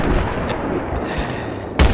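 Gunfire in a Battlefield 3 Conquest round on Gulf of Oman, a busy spatter of shots under a dense battle din, ending with a loud, close blast.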